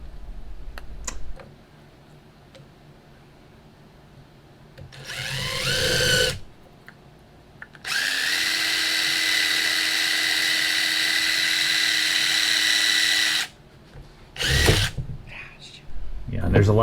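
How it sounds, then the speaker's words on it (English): Power drill boring a hole in wood while shelving is built in a Chevy Astro camper van: short whining bursts, a pause, then one long steady high-pitched drilling run, with speech and handling noises around it. "now I need to drill a hole for the light in the wood so I can mount it"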